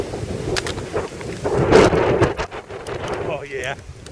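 A violent windstorm in Coon Rapids, Minnesota roars against the microphone with gusty rushing, a low thunder-like rumble and rain noise, while voices are faintly mixed into the turbulent din.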